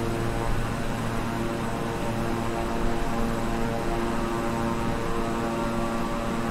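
Beechcraft 350i King Air turboprop engines in a flight simulator, a steady loud droning hum with tonal propeller whine, constant throughout with no talk.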